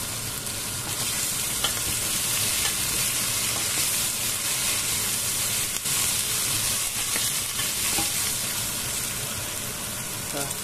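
Diced potatoes fry in a pot for garlic soup, giving a loud, steady sizzle with occasional stirring scrapes that runs throughout.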